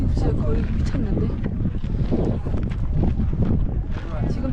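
Strong gusts sweep across a volcanic mountainside, buffeting the microphone in rough, continuous bursts of rushing noise, loud and close throughout.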